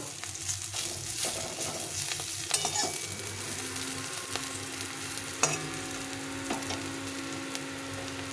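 Vegetables fry in a pan with a steady close sizzle, while a spatula stirs and scrapes through them and a couple of sharper knocks land against the pan. No one talks.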